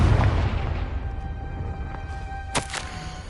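A Confringo fire spell detonating in Hogwarts Legacy, a heavy booming blast that rolls off into a fading rumble, followed by a couple of sharp crackling snaps.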